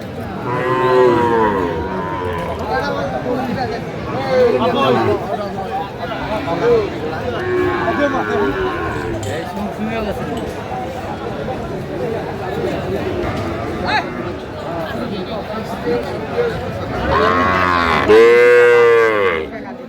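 Cattle, including a Sahiwal bull, moo several times at a livestock market, long drawn-out calls rising over the steady chatter of a crowd, with one loud close moo near the end.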